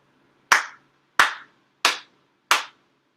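Four sincere hand claps at a prayer service, sharp and evenly spaced about two-thirds of a second apart, each ringing briefly in a quiet room.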